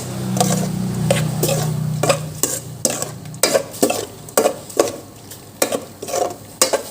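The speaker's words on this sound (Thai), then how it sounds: "กั่วให้น้ำมันแห้งพริกแกงมันหอมหอม" Curry paste is stir-fried in oil in a pan for a pork-leg curry, a soft sizzle under a run of sharp, repeated scraping strokes of a utensil against the pan, close and fairly rhythmic.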